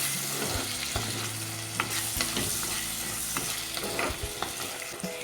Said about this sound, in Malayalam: ഇനി ഇതെല്ലാം കൂടി ഒന്ന് മിക്സ് ചെയ്തെടുക്കാം.